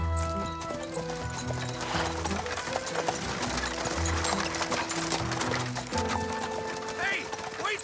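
Cartoon horse hooves clip-clopping at a steady trotting rhythm, up close and fairly loud, layered with a busy animated soundtrack throughout.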